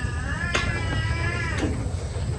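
A pet cat meows repeatedly in a kitchen where pork is being fried for lunch, its wavering, drawn-out cries standing out over a steady background hiss with no talk.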